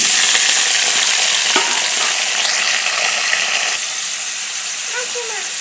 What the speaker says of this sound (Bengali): দেখো তেলটা আমার গরম হয়ে এসছে, এবার আমি দিয়ে দেবো কুটে রাখা আলুগুলো